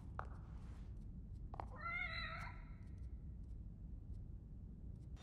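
A cat gives a single drawn-out meow in the middle, close and clear over low background rumble, with a couple of soft thumps before it.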